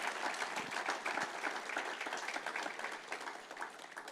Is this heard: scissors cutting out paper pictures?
no